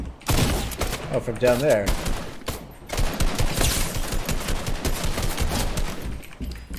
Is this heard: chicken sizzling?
no